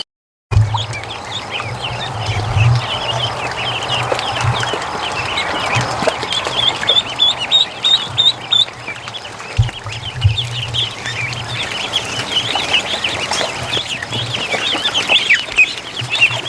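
Young Muscovy ducklings peeping with chickens clucking outdoors, a continuous busy chorus of high calls and clucks, fairly loud and near.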